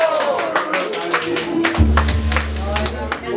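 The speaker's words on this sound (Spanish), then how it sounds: "Un aplauso bonito" Applause from a crowd at a mariachi birthday serenade, a steady patter of many hands clapping under a low musical hum and some voices.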